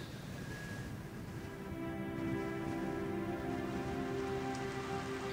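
Steady rain falling on surfaces outdoors during a wedding, a continuous even hiss of drops with no voices, holding at a constant moderate level throughout.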